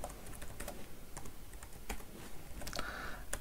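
Python code is typed on a computer keyboard in a steady, uneven run of soft clicks and taps, close and quiet, with no voice.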